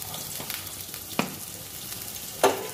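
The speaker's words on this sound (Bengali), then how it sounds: "তার জন্য বেগুনগুলো আগে ভেজে নেব।" Brinjal (eggplant) slices frying in oil in a home kitchen, a steady soft sizzle broken by two or three sharp clicks or spatters, no talking.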